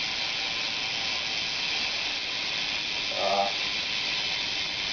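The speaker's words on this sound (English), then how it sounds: "Everybody always wants to know what the hub sounds like." A stock 2008 Kink Apex BMX bike's rear hub ratchets as a steady, dense buzz of rapid clicks while the wheel freewheels after a single spin, close and fairly loud throughout, with a brief louder swell near the end.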